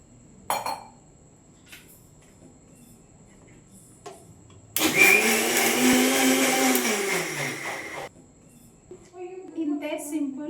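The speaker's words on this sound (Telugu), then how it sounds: "ఫస్ట్ స్వీట్ లస్సీ కోసం మిక్సీ జార్లో పెరుగు వేసుకోవాలి" A mixer grinder whirs loudly for about three seconds as it blends curd, sugar and cool water into sweet lassi in the jar, with clinks of the jar and utensils before and after, and a person talking briefly near the end.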